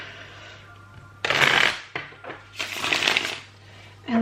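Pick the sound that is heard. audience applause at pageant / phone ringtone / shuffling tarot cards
shuffling tarot cards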